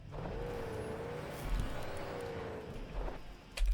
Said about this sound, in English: This is a race car, interestingly.